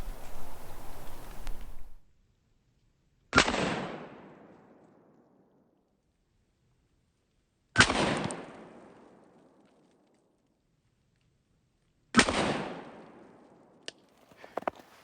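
A Smith & Wesson 629 revolver fires 240 grain jacketed soft points outdoors, three loud, sharp shots spaced several seconds apart, each followed by a decaying echo.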